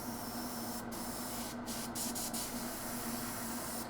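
An airbrush sprays thinned paint onto a Knight Armiger model in a steady, continuous close hiss that runs the whole time with a few brief breaks, over a faint low hum.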